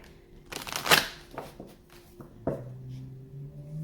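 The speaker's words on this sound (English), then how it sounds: "One last shuffle for the collective" Tarot cards being shuffled by hand during a reading, a few quick riffling bursts and soft card slaps close up, with quieter handling between them and no talking.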